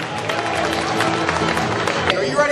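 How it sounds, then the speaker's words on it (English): A crowd at the PNE 2023 fair gives the team reps a loud round of applause, a thick blend of clapping and cheering with a lively buzz of voices mixed in. "Round of applause to our Team Reps,"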